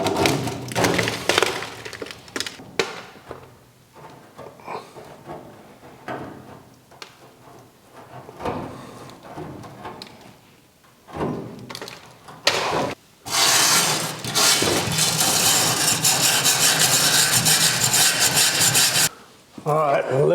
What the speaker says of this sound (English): So it's best to just scrape it off.